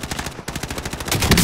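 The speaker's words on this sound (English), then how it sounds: "They're shooting at me!" Rapid gunfire in a video game, a close burst of shots fired at the player while a sniper rifle sits in the loadout, loud repeated cracks in a quick uneven rhythm that grow heavier toward the end.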